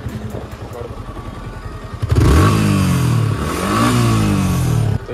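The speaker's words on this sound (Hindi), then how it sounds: "तो ये है बाइक का साउंड" A Yamaha R15 V3 motorcycle idles with a steady thump, then revs sharply, engine pitch rising and falling through several loud, close throttle bursts.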